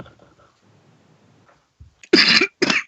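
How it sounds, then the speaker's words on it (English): Two loud, close coughs in quick succession burst out near the end, after a quiet stretch of faint murmuring and a soft throat sound. "needed to cough for a moment"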